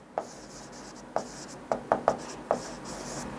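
A pen strikes and scratches against a board in about six distinct taps and short strokes, spaced unevenly over a few seconds, close and clear against a quiet room.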